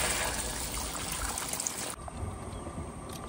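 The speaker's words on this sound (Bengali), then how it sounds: "এবার জল দিয়ে দেবো মাংসতে।" Water poured into a pot of browned, spiced chicken while it cooks outdoors, a steady close trickling splash that cuts off partway, leaving a quieter background.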